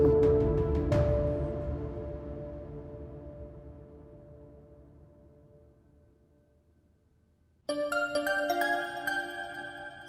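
A phone ringtone plays a loud ringing chime that decays slowly into near silence, then a second bright, tonal burst of the ring starts abruptly and continues to the end.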